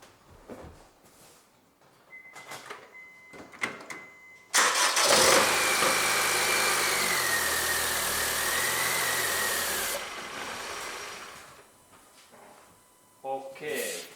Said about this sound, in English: And now I go to start my car, that we can hear that how this engine really starts.